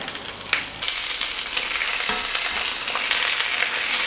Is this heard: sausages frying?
yes